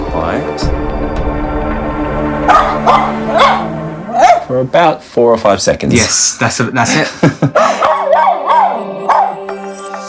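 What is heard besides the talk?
stressed dog barking and howling alone behind closed door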